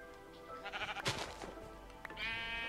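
Sheep in the video game Minecraft bleat several times in a short wavering series, close and fairly loud, with a brief sharp click partway through and a bright tonal sound rising at the end; no talking.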